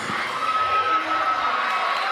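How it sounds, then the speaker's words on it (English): A roller derby crowd roars and cheers during a bout, a dense, steady wall of shouts and whoops that holds loud and continuous throughout. "The crowd's going crazy."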